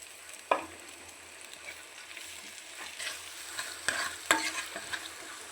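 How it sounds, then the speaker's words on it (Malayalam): Chopped shallots fry in a pan already holding garlic, ginger and mustard for a breadfruit and dried shrimp masala, with a steady low sizzle and a few sharp spoon scrapes and knocks as they are stirred. "നന്നായി മൂത്ത് വരുവോളൂ നമുക്കിതൊന്ന് ഇളക്കി കൊടുക്കാം."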